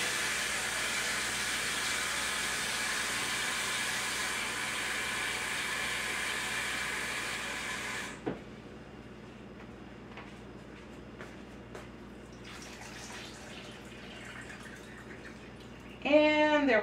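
Water runs steadily into a container for about eight seconds as a loud rushing hiss, then cuts off, leaving quiet room noise with a few small clinks and splashes and a brief sharp sound at the end.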